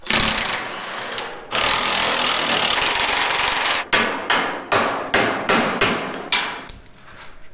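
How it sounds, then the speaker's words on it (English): A claw hammer pounds on steel while heavy springs are fitted to a large wrecker, first as a dense blur of rapid blows, then as about eight loud, separate strikes in a steady rhythm, close and with no talking. "Claw hammer wins again."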